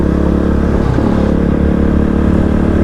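Kove 450 Rally motorcycle engine running steadily on unpaved off-road tracks, a continuous loud mid-pitched drone with slight rise and fall in revs, heard close and alone.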